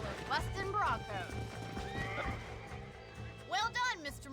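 Horses whinny and neigh in Red Dead Redemption, several loud calls over clip-clopping hooves and low game ambience, with people speaking in the background.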